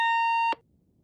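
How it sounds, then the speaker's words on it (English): Intercom in an audio drama giving one steady electronic buzz, a bright sustained tone lasting about half a second before cutting off abruptly with a click, loud and alone. "Julia picks up the intercom, thinking it's the phone"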